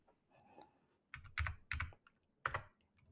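A command typed on a computer keyboard, a few quick clusters of close key clacks separated by short pauses, quiet and with no voices.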